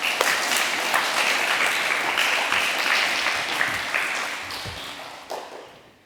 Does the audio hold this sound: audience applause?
yes